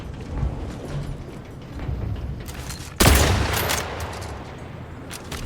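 In The Outer Worlds 2 on PS5, a sudden loud burst of gunfire hits midway through, followed by rattling shots and fading reverberation over a low, rumbling background.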